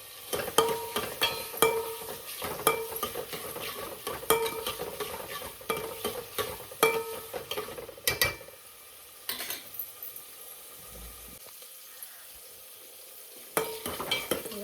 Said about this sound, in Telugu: టమాటా వేసి బాగా ఫ్రై అయ్యే వరకు బాగా వేయించుకోవాలి